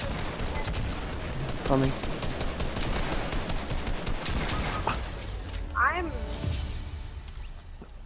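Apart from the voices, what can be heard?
gunfire from the video game Fortnite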